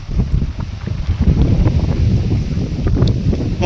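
Strong wind gusts buffet the microphone in open Gujarat country, a loud, continuous low rumble that swells and eases without pause and with no voices.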